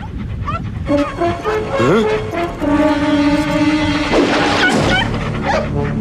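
A dog yips and whimpers in high, wavering cries mixed with short barks, close and loud, over busy background sound.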